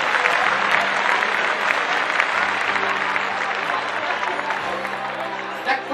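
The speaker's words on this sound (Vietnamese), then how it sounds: "Xin một tràng pháo tay" Wedding guests clap together at a Vietnamese wedding ceremony, a full, lively burst of applause with voices and background music murmuring underneath throughout.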